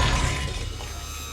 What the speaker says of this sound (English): I smashed my heavy cast iron plate right into the front of my glass oven.